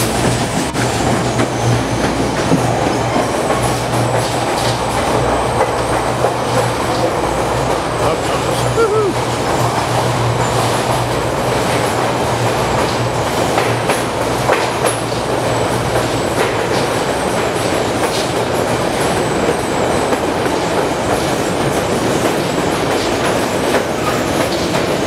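A White Pass & Yukon Route train on the Summit section rumbles through a tunnel, a loud, enclosed clickety-clack with a steady low drone that fades partway through, heard from on board.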